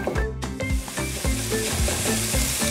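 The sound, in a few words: pork frying in a pan over medium heat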